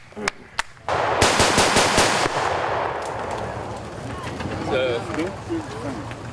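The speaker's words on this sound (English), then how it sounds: "The M60 General Purpose Machine Gun" An M60 general purpose machine gun fires at a historical reenactment: two sharp reports, then a dense roaring burst of automatic fire that fades into echoing outdoor noise, with faint crowd voices and a whistle-like sound near the end.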